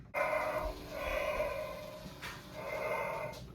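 Breathing effect from a Spirit Halloween Michael Myers animatronic: slow, raspy mechanical breaths in a repeating in-out rhythm, three long breathy pulses close and steady with a faint background hum.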